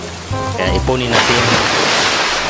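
Sudden heavy rain pours down in a steady broadband wash that swells partway through, while someone speaks briefly over it at the start.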